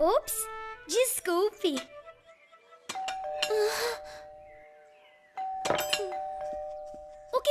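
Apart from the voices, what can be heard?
doorbell ringing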